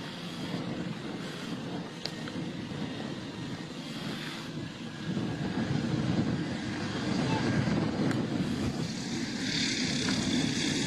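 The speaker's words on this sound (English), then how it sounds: "This pilot aborting a takeoff just before they were about to lift off." An airplane aborts its takeoff on a runway, its engine drone and rumble swelling then holding steady, moderately loud, with voices over the noise.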